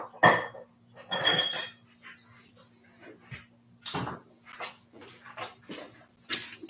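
Metal ratchet and socket tools, including a 3/8 ratchet, clanking into a tool bag while packing for a motorcycle run, several sharp clinks and rattles at close range, with a dog whimpering and barking in between.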